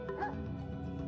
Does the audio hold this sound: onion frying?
no